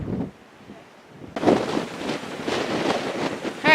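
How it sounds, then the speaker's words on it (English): Strong, cold wind on a steep mountain trail near Denali, Alaska buffets the microphone, quiet at first, then a sudden loud gusty roar that rumbles steadily to the end. "It is extremely windy and incredibly cold."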